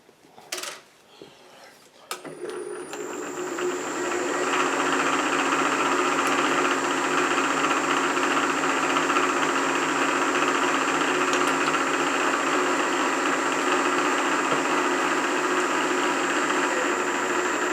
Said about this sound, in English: This is a counter bore for 1/4 inch socket head cap screws.